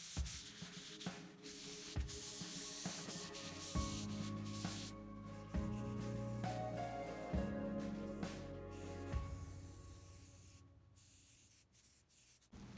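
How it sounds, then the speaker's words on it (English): Sanding a metal poster surface by hand, a steady rough rubbing scrape in repeated strokes, close and quiet, continuing for several seconds with no talk. "I'm going to sand it real quick, then clean it up, wipe it down again"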